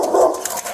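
A dog barks once or twice close by, a short loud burst that fades into a softer tail, with no talking over it.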